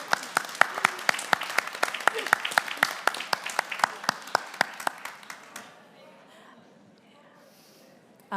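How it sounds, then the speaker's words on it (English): Lively applause from an audience thanking panelists at an Irish wool council panel talk, sharp individual claps crowding together for about five seconds before fading into near quiet room tone. "We might give them a round of applause."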